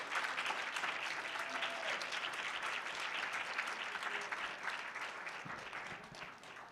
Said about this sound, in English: Another round of applause for the whole panel.